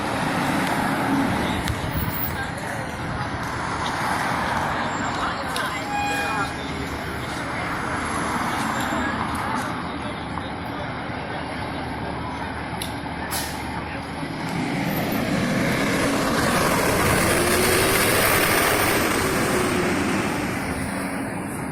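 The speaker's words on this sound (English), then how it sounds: "Engine 1 got a fire, so they're gonna go on this call." A fire engine pulling out and driving off to a call, its heavy truck engine rumbling steadily nearby with air-brake hiss and road noise, rising in loudness toward the end as a person talks over it.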